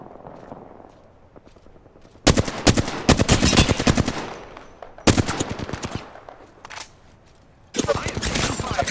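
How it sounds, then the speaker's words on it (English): Video game gunfire comes in loud, dense bursts of rapid automatic shots, split by short quieter gaps, with faint voice chatter underneath before the shooting begins. "I am taking fire."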